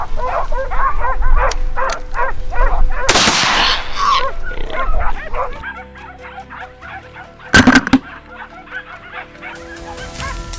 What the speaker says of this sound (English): the baying of hunting dogs caught Kevin's attention